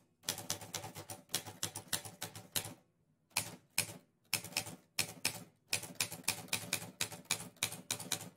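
Fast keyboard typing in bursts of rapid clicking keystrokes, close and fairly loud, broken by a couple of short pauses, with no talking.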